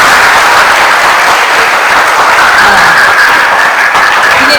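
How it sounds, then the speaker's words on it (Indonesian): A hall full of students gives loud, continuous applause for a guest speaker at a school talk on teen self-control. It is a steady, dense wash of clapping from start to finish, with no break. "Kalau ada tepuk tangan nih, berarti kenal ya."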